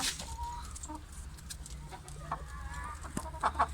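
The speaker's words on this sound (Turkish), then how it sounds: "Şu arkadaş bizim horozumuz." A five-month-old rooster clucks and murmurs close by in a chicken coop, with soft farmyard bird calls scattered through the moment.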